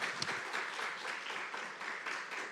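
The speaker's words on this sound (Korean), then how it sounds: "귀한 박수 감사합니다" A church congregation at a Wednesday worship service gives a brief round of applause, soft even clapping from a modest crowd that carries on steadily throughout.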